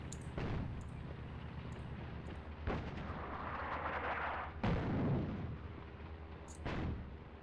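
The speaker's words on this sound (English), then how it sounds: "we need to get some artillery onto them straight away" Artillery fire booms in the North Africa battle of the Attack at Dawn: North Africa war game, with four heavy, deep blasts spaced a couple of seconds apart over a rumbling battlefield background.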